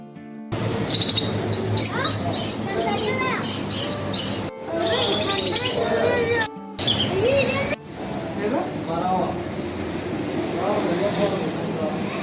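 Many small caged birds chirp and tweet busily in a roadside pet shop, overlapping one another, with voices and passing traffic noise mixed in.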